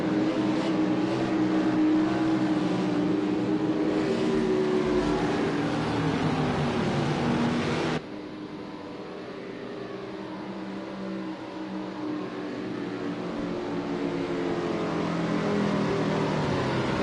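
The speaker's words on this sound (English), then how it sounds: "I love the sounds of these cars." Race car engines in an oval racing video game, a steady loud droning roar that shifts pitch as the car runs flat out, dropping abruptly midway then building again, with no talk.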